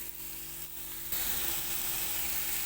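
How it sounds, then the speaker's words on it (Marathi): Onion fries slowly in a pan over low gas. A faint, even hiss turns abruptly louder partway through and then holds steady, with no voices. "कांदा मला आता भाजतोया गॅस कमी ठेवला आहे आता"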